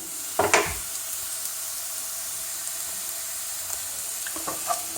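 A steady, fine sizzle of peppery milk-cap mushroom slices frying in pork fat in a pan, with a couple of brief scraping stirs near the start and end.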